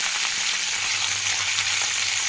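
Three dried red chillies crackle and sizzle in hot oil for lemon rice tempering, a steady bright frying hiss close to the pan with no voices.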